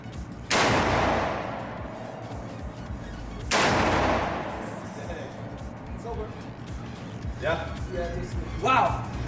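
Real firearms fire at a shooting club: two loud, sharp gunshots about three seconds apart, each trailing off into a long echo, while people talk and exclaim nearby.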